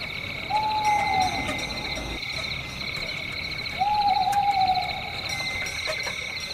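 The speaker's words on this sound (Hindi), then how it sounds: "कभी-कभी उल्लू की हू हू आवाज" An owl hoots twice in a forest at night, each call a drawn-out tone a few seconds apart, over a constant faint whir of insects.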